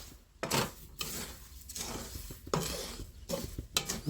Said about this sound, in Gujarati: જે રીતે આપણે તેલમાં તળતા એ રીતે આપણે મીઠામાં પણ લીમડાના પાન શેકી લેવાના